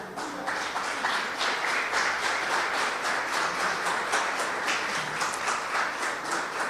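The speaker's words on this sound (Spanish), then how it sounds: "Dele un aplauso al Señor" A church congregation applauds in praise of the Lord, a steady, dense wash of clapping that holds at even loudness from start to finish with no voices on top.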